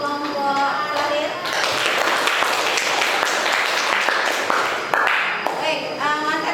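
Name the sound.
audience applause for a group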